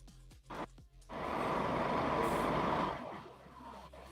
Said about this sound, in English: there's a truck that parked close to us